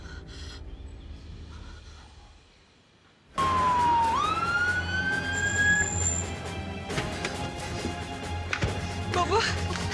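Ambulance siren wailing loud and close after a quieter opening, with rising and falling tones over steady traffic noise, heard in a dramatic scene where people talk urgently.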